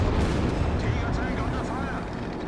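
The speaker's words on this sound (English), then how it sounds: "Recon artillery again." Artillery fire in the game Company of Heroes 3, a steady rumbling barrage of booms and blasts running continuously through the moment, loud and dense with no pause.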